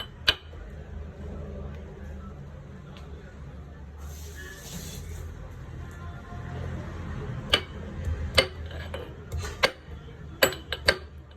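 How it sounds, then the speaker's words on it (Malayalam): Ginger is crushed for masala tea in a home kitchen, a handful of sharp, irregular pounding knocks arriving near the end after a stretch of quiet kitchen noise. "ഇഞ്ചി ഒന്ന് ചതച്ച് വെക്കാം"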